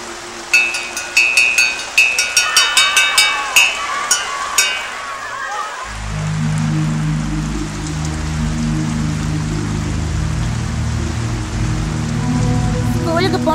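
Heavy rain falls, first as loud dripping taps on a surface and then as a steady, dense wash of rain that continues to the end.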